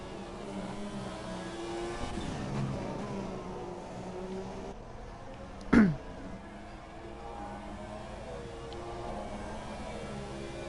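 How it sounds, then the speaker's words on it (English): Formula 1 race cars in the F1 2017 video game, with a steady high engine whine that holds throughout and a sharp, brief burst of noise about halfway through. "Raikkonen with the slipstream and the DRS on Alonso"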